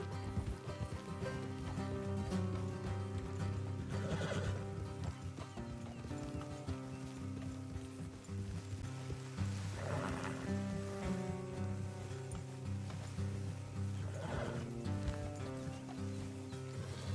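Horses in Red Dead Redemption 2 clop along at a steady pace through the whole stretch, with an occasional snort or whinny over a low soundtrack bed and surrounding ambience.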